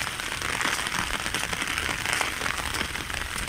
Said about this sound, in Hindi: मतलब पूरा पूरा बारिश है इसमें पूरी पूरी जा रही है।